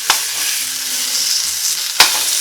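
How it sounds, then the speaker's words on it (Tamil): Tomatoes sauté in a hot pan with a close, steady sizzle, broken by two sharp spoon knocks against the pan at the start and near the end. "இப்போ தக்காளி நல்லா வதங்கிருச்சு."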